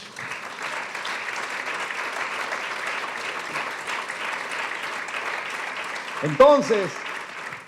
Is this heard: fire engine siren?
no